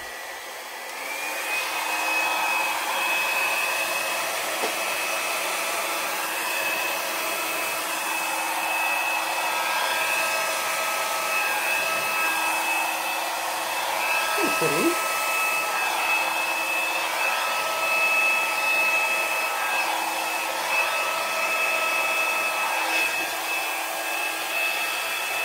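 A hair dryer blows steadily across freshly poured thin acrylic paint, a loud continuous whirring hum for the whole stretch with a brief dip and rumble midway, no voices.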